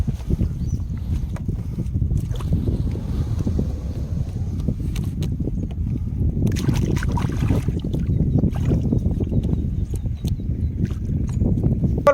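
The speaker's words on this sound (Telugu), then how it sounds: "పడవని అయితే నీటిలో గెంటుదామండి" A boat stuck in mud is shoved into the water of a Godavari canal, producing continuous low rumbling and scraping with some wind noise, fairly close and steady throughout.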